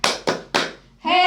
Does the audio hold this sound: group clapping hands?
yes